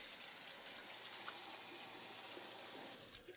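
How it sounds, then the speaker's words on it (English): Tap water runs steadily as soap is rinsed off an item under the faucet, a continuous close hiss and splash that ends abruptly near the end. "What I'm going to do is just rinse it off"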